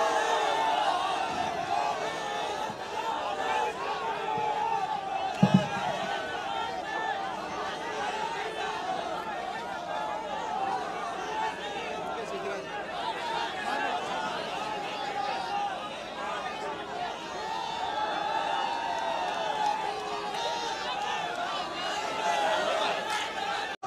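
Large crowd at a political rally in Bihar, a steady roar of cheering and chatter throughout, with a brief loud thump near the middle and no clear single voice over the din.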